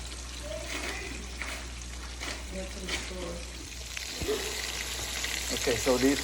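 Salisbury steak patties browning in hot grease make a steady, close frying sizzle with bubbling pops, and a person talks over it.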